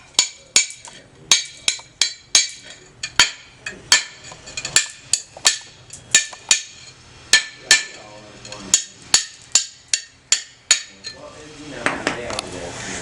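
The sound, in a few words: chipping glass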